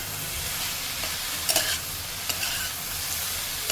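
Steady frying sizzle as two green chillies cook in a pan with a little water, with a few soft stirring scrapes, close up and with no voices.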